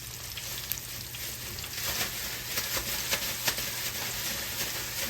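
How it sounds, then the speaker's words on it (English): Pork chops fry in hot grease, a dense, steady sizzle and crackle with scattered pops, close and fairly loud, with no voices. "You're actually frying your pork chop."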